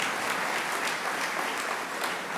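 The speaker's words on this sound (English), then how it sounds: "You have to clap" A lecture-hall audience at a memorial lecture breaks into steady, even clapping that fills the short stretch at a constant level with no voices over it.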